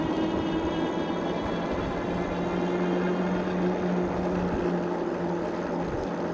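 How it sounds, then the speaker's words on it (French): An Engwe M20 electric bike motor whines steadily while accelerating, with a sustained tonal hum over road and rolling noise, continuous and close. "On a bien entendu le son du moteur,"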